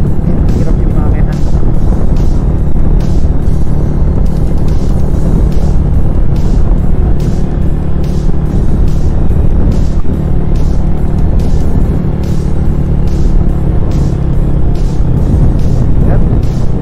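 Car engine laboring in fourth gear at just over 3,000 RPM, a steady loud drone with harmonic bands from inside the cabin, mixed with road and wind noise throughout.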